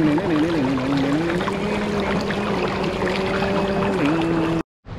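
A mountain river on the Manaslu trek in Nepal rushes loudly and continuously close by, with a wavering tonal drone over the broad flow, before a sudden brief cutout near the end.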